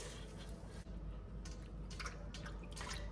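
Soaked puffed rice is squeezed hard by hand, letting faint wet drips and squishes fall close by, quiet and irregular against a low background hiss.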